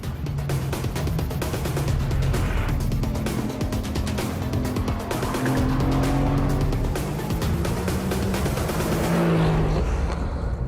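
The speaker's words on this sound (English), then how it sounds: "Going fast, you gotta turn in sooner, Zach." A car is driven fast around a track corner, its engine droning and shifting in pitch under load as tires squeal and scrub through the turn, loud, close and continuous.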